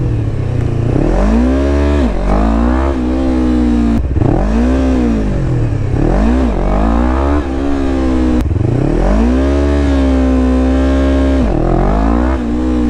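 A Yamaha R3 motorcycle engine revs hard and close during a wheelie attempt, its pitch sweeping up and dropping repeatedly as the throttle is opened and closed, loud and steady with no voices.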